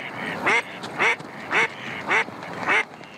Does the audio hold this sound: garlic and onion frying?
no